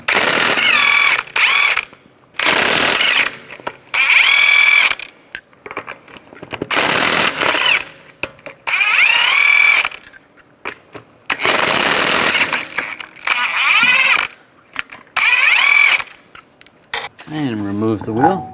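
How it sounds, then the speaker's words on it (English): Lug nuts come off a 2011-2019 Ford Explorer wheel with a 19mm socket on a powered tool, delivering loud repeated bursts of whirring ratchet rattle separated by short quiet gaps. "take the lug nuts off"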